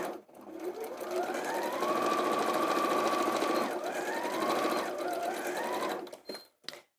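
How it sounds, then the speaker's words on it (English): Sewing machine stitching across pressed-flat fat quarter fabric, a steady continuous whirring run of about six seconds that stops abruptly, with no talk over it. "Really make sure these fabrics are pressed flat on your machine, that there's no folds in the fabric as you're sewing across."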